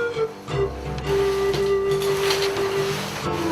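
Alpaca socks being knit on a sock knitting machine with latch-hook needles, a steady mechanical whir with a sustained tonal hum and light rattling, fairly loud and continuous with no voices.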